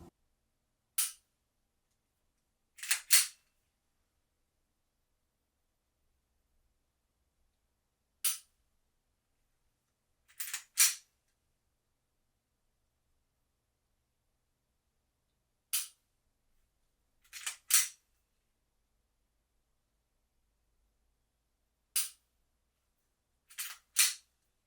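Sharp dry-fire trigger clicks from a pistol fitted with a Mantis X10 Elite training sensor, close and crisp, falling in pairs and singles with long silent gaps between.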